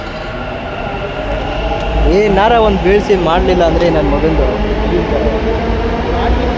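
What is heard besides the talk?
metro train at station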